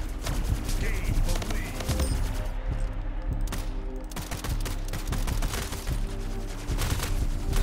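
Rapid automatic gunfire from Splitgate gameplay crackles almost without pause in dense, loud bursts while a player talks over the shooting.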